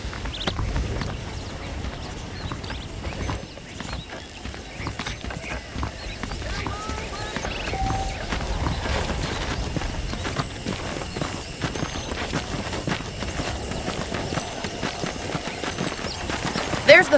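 Horse hooves clip-clop at a steady walking pace in Red Dead Redemption, moderately loud and continuous, with a voice talking over them much of the time.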